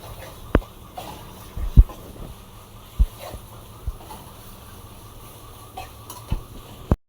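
Onions, green chillies and ginger fried in a pan, with a soft, continuous sizzle broken by a few sharp scrapes and taps as a spoon stirs them at irregular intervals.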